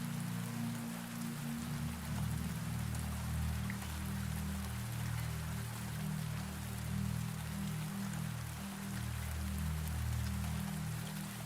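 Steady rain falls around a greenhouse at midnight, a soft continuous patter of drops under a low rumbling bed, even and unbroken from start to finish with no voices.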